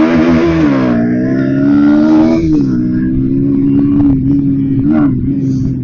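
Bajaj NS160 motorcycle with its stock air filter revving loudly and close up, the engine note swelling and easing across several throttle blips, with no talk over it.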